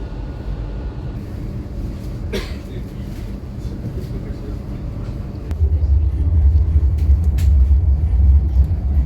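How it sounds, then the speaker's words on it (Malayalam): Superfast trains travelling at around 300 km/h pass by as a continuous low rumble that swells louder partway through, with a few brief clatters. "കാണുന്നതൊക്കെ സൂപ്പർ ഫാസ്റ്റ് ട്രെയിനുകളാണ്, 300 കിലോമീറ്റർ പോകുന്ന ട്രെയിനുകളാണ് കാണുന്നത്"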